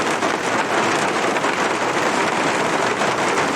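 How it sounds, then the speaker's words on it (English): Steady, loud rain pours down without a break in the hunting video game The Hunter: Call of the Wild, a dense wash of droplets filling the scene with no voices. "please do not start raining now."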